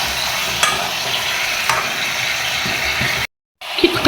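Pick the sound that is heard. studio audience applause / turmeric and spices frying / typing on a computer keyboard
turmeric and spices frying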